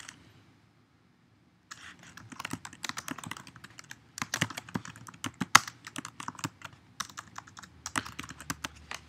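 Typing on a computer keyboard to enter an address for a label, with bursts of clicky keystrokes after a brief silence, steady and close, with no talking.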